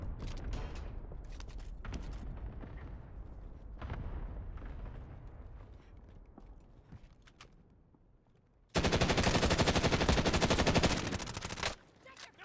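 Gunfire in the video game Call of Duty: Warzone on Rebirth Island. Quieter game sounds come first, then a loud, rapid automatic burst rattles for about three seconds before cutting off.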